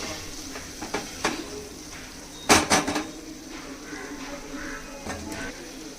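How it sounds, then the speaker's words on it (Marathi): A lid goes onto a cooking pan in a kitchen with a short cluster of bright metallic clatters, after a few lighter taps and clicks, then quiet ambience with faint later clinks. "आणि झाकण घालून 5 मिनिटं आपण शिजू देणार आहे"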